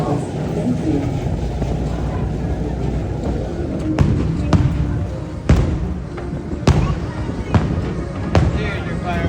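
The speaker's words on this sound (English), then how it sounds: "There's your fireworks." Several sharp firework bangs burst over a steady low rumble at a Starport ride attraction, spaced irregularly across the second half, with people talking faintly in between.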